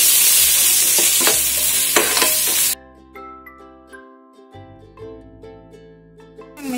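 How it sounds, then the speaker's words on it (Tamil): Chilli, ginger-garlic paste, garam masala, turmeric and chilli powder with salt sautéed in a pan for chicken momos filling, a loud sizzle and stirring that gives way to quieter clinks. "கொஞ்சம் உப்பு நல்லா வதக்கி எடுத்துக்கணும்."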